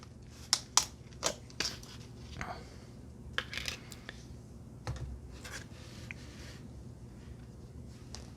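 Container of Epsom salts being picked up and handled while mixing hydroponic nutrient solution, giving a string of sharp light clicks and rattles in the first two seconds, then scattered softer taps and rustles.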